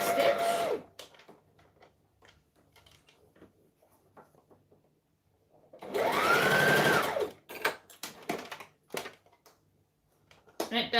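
A home sewing machine backstitches the short end of a fabric scrunchie in two loud bursts, one at the start and one midway, with quiet handling clicks and rustles between them; brief talk is audible.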